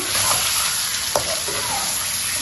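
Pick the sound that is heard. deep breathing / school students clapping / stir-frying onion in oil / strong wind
stir-frying onion in oil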